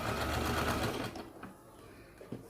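A sewing machine stitches a seam on a newborn baby's pant, a loud close whirring burst for about a second that stops abruptly, leaving faint handling clicks.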